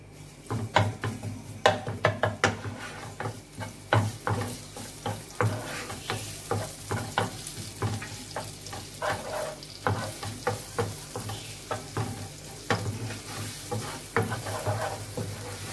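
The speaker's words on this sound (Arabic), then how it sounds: "غادي نخليه هاد الزبده اللي قليت فيها الحوت غادا نخليها، غادا نزيد عليها الثومه" Garlic frying in butter left over from pan-fried salmon, a close sizzle broken by frequent quick scraping stirs in an irregular rhythm.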